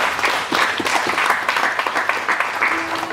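A church congregation breaks into applause and cheering, a dense, continuous patter of clapping that stays loud and close for the whole moment.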